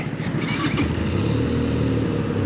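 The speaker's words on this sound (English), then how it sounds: "Ooh, nice little rumble." Benelli Leoncino 500 motorcycle engine idling with a steady low rumble and a brief blip of revs near the start, close by and continuous throughout.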